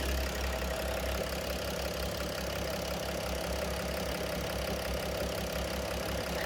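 A BMW X3 E83 3.0 engine idles steadily with a low, even drone and rhythmic throb, heard close and alone, with no talk.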